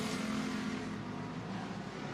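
Race cars in a heat race at Bakersfield Speedway roar down the back straightaway, a dense steady engine drone that stays loud and a little distant from start to end, with no talking.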